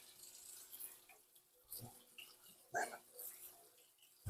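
Food rinsed under a running kitchen tap while making lasagna, giving soft, faint splashing and trickling with a few louder gushes as the water hits and moves around.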